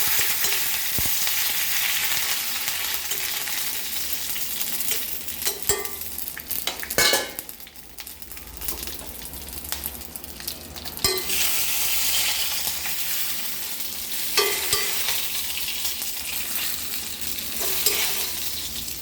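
Dried red chili and curry leaves sizzle in hot oil for beetroot pachadi, a steady loud crackling hiss with occasional stirring scrapes and no voices.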